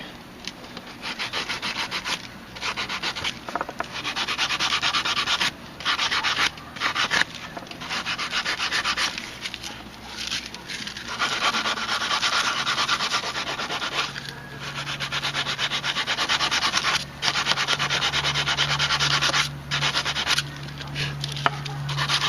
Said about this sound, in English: while you're sanding this